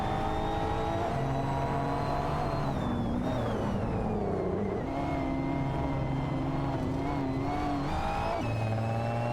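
Race cars in an AI racing video game battle for position, several engines whining and revving with shifting pitches that climb and drop as cars overlap and pass, loud and continuous without pause or talk.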